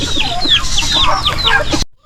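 Farm chickens cluck busily and continuously close by, with overlapping calls and squawks that cut off abruptly near the end.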